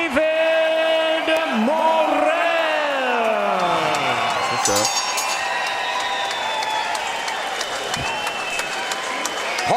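A partisan boxing crowd at the Armory in Minneapolis cheering, whooping and applauding after a technical knockout, loud and continuous, with a ring announcer's amplified voice and commentators talking over it.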